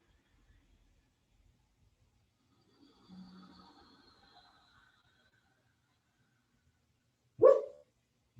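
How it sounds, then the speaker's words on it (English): A sleeping dog makes faint muffled whimpers and soft whines in a quiet room during a yoga session, then lets out a single short, louder muffled bark near the end. "My dog is dreaming."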